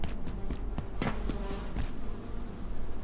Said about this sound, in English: didn't know that there was a bee's nest